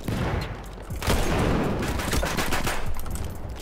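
Pistol fire in Battlefield 1 amid a busy firefight: a dense, loud stream of overlapping shots and crackling gunfire throughout, without voices.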